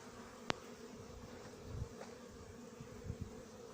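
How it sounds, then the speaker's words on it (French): Faint bees buzz past now and then over a quiet outdoor hum, with one sharp click early on. "Les abeilles insistent pour passer par là"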